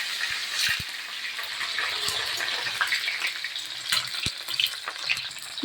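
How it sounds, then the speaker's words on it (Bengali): Bitter gourd frying in very hot mustard oil in a wok, a steady bubbling sizzle with a few sharp crackles and pops, close and fairly loud with no one talking. "উচ্ছেটা ভাজা হোক"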